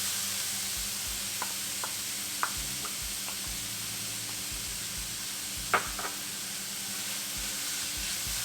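Onions and green chilies sauté in a pan, giving a constant bright hiss of sizzling oil with occasional faint clicks of a utensil, close and even, no speech.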